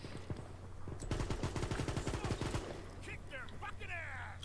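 Rapid bursts of automatic gunfire in the World War 3 shooter game rattle loud and close for about a second and a half. Quieter in-game effects and a voice follow.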